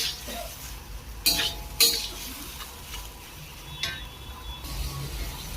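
Potatoes fry in spiced masala in a pan while a utensil stirs them, with a soft sizzle beneath a few sharp scrapes and clinks of metal against the pan.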